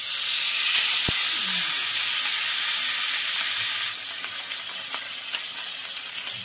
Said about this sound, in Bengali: মাছটা দিলেই তেল ছিটতে থাকবে গায়ে।